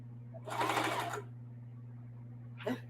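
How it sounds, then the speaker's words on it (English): Sewing machine back stitching a side seam on a camo tote bag, one short close burst of rapid stitching over a steady low hum, followed by a brief second whir near the end. "So I'm back stitching, and instead of zigzagging this one, because it's a side seam, I'm just gonna flip it upside down"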